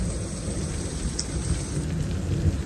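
Rain falling during a thunderstorm with flooding and lightning, a steady soft hiss of rainfall with low rumbling underneath, faint and continuous without speech.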